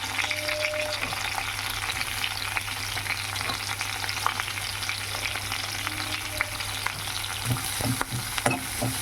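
Chopped onions frying in a kadai over a low flame, a steady close sizzle with occasional soft stirring clicks and no voices.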